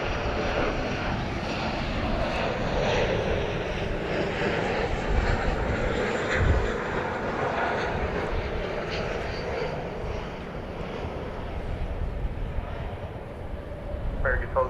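A passenger jet at DFW airport, heard as a broad, continuous rumbling engine roar that swells slightly midway, with talking throughout.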